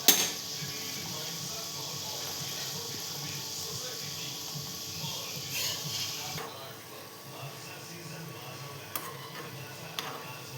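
Sweet potato gulab jamun fry in hot oil with a steady, close, hissing sizzle that carries on throughout, broken by a few faint ticks and clinks.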